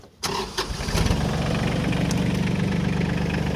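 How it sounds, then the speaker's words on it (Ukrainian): An Iseki TK-33 small tractor engine cranks briefly, catches, and settles into a loud, steady chugging idle close by. "Зараз ми заведемо тракторець"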